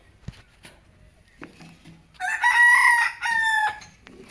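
A rooster crows loudly nearby in a village yard among many chickens, two drawn-out calls after a few quiet scattered clucks and knocks.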